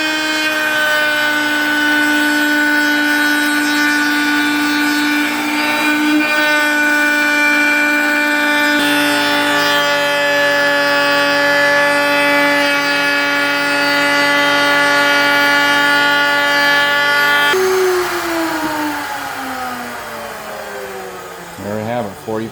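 A power tool cuts a 45-degree bearing edge on a solid-stave bocote snare drum shell, a loud steady whine that shifts pitch twice before winding down at the end.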